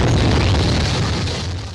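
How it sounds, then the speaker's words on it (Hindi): A loud explosion sound effect portrays a bomb blast at a crowded political rally: one deep, heavy boom whose rumbling roar fills the whole moment and slowly fades. "तभी एक जोरदार धमाका,"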